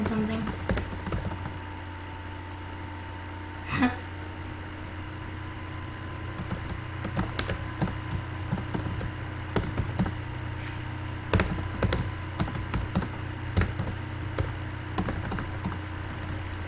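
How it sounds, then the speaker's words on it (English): Keystrokes on a computer keyboard during a livestream, a steady run of quick, close taps over a constant background hum. "I'm typing in something."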